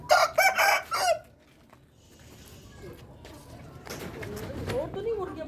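Backyard chickens call close by in a burst of bright, repeated clucking cries at the start, followed by quieter rustling and low background sounds with faint bird noises.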